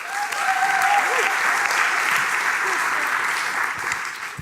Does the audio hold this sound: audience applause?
yes